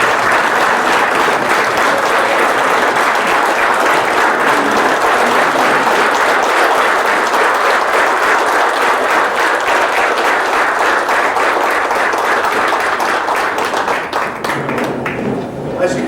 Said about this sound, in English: Please join me with a huge round of applause.